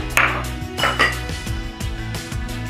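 A metal whisk set down among pots, pans and cutlery in a kitchen, giving a few bright clinks and clatters close by, with no talk.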